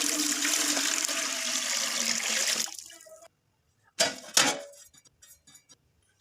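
Roughly 1.5 kg of water pours into a steamer pot in a steady, rushing stream for about three seconds. A couple of metallic clanks from the pot follow, with no talking.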